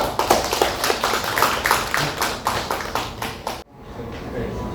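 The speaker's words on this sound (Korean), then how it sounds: "뜨거운 박수 부탁드릴게요." Applause from an audience at a book talk and reading, dense rhythmic clapping that builds and then abruptly stops, leaving a quiet room.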